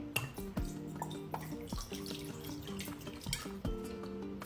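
Water poured into a floral arrangement container, heard as a close, steady pour with small splashes and drips over a sustained tonal background.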